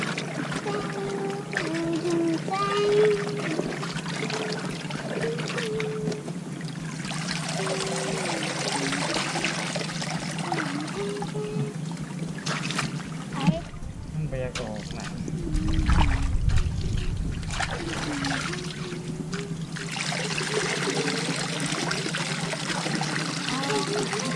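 Fresh crabs and shellfish caught from a flooded rice field are rinsed of mud in water, with continuous splashing and trickling close by and a heavier slosh partway through, under a steady outdoor background.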